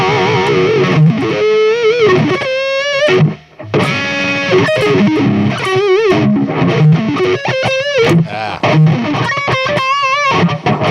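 Heavily distorted electric guitar through Seymour Duncan Blackout Metal pickups, no boost, reverb off, plays chugging riffs and sustained bent notes, loud and dry, with brief pauses between phrases.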